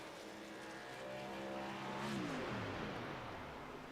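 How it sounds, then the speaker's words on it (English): A race truck in the iRacing simulator, running the Truck Series at Iowa Speedway, holds a high engine note that swells as it passes, then drops in pitch as the throttle lifts off, a smooth continuous roar with no talk over it. "you hear just how early Belk is shutting that truck off"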